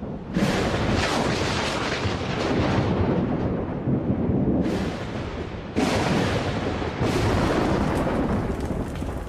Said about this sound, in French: Un orage y suffira.